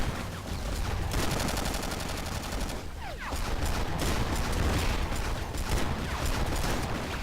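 Rapid automatic gunfire in the online shooter Battlefield Heroes, steady bursts of shots filling the whole stretch at moderate loudness with a brief lull in the middle, no talking.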